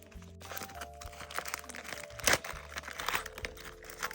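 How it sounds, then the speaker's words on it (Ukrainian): Crinkling and crackling of a paper surprise packet being handled and torn open close by, with a sharper rustle midway. "І ось такий пакетик. Давайте ж його відкривати."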